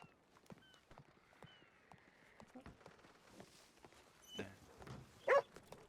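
A dog barks a few times in the Red Dead Redemption video game, quiet and short bursts among footsteps and faint ambient game sounds.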